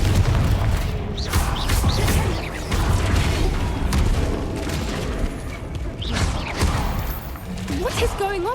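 Confringo spell explosions in Hogwarts Legacy combat: dense, rumbling booms and crackling blasts running almost continuously, with shouted voices and whooshing spell effects mixed in.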